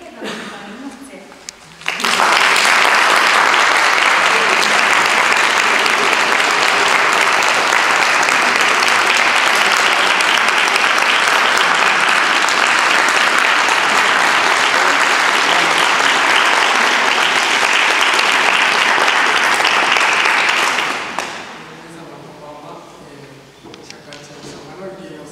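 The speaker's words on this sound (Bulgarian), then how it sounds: "А сега моля за вашите аплодисменти" Audience applause welcoming a shakuhachi performer on stage at a recital, a loud, sustained wash of many hands starting abruptly and stopping after about nineteen seconds, with quieter murmuring before and after.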